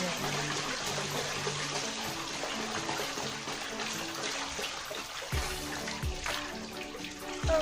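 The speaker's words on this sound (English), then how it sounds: "I'm about to start the washing, so you can see the washing process" Guinea corn and millet are washed in a bag with water, a steady close sloshing and trickling that runs the whole time with some splashy rises near the end.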